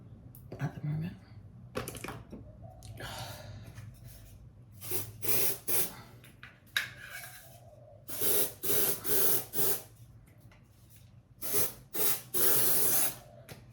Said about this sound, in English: One thing I am happy I got is spray on deodorant.